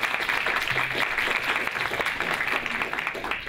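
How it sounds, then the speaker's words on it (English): Steady applause from a conference audience fills the room for presenters at a Wikimania 2012 technology and infrastructure session, dense and sustained throughout without any talk. "let's give our presenters a round of applause"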